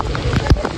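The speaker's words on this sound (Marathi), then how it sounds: "वरतून पाऊस एवढा जोरात आहे" Heavy rain pours down on a couple caught outdoors, a dense steady patter with a few louder thumps from drops striking close by, and no speech over it.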